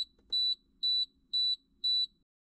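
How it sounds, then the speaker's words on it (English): An Aquasana under-sink water filter system gives a short series of high, evenly spaced electronic double beeps, clean and fairly quiet, over a faint low background hum. "listen for the system to beep"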